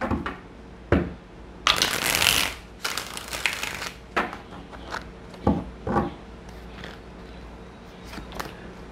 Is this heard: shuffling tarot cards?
yes